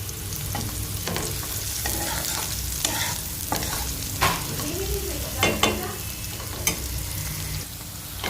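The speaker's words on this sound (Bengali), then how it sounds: "এবার এর মধ্যে দিয়ে দেবে রসুন আর কাঁচা লঙ্কা কুচিটা হালকা গোল্ডেন করে একটু ভেজে নেবে" Chopped garlic and green chilli fry in ghee in a pan, a continuous close sizzle broken by repeated scraping strokes of a spatula and occasional clinks, steady and moderately loud, with no voices.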